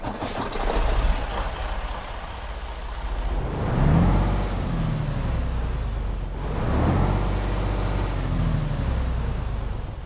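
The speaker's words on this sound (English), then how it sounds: "let's get this Freightliner Cascadia 5th gen started up and get on the road" Freightliner Cascadia fifth-gen truck with a DD15 diesel engine in American Truck Simulator, two hissing air releases with rising engine rumble and a deep steady idle, loud and close with no talk.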